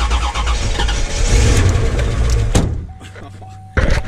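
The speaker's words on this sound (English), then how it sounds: "Giving it ground, cranking." A 1993 Chevrolet Corvette with an LT1 V8 cranks loudly and catches into a rough running burst, then cuts out to quiet. A faint tone lingers briefly before a sharp knock at the end, all close by.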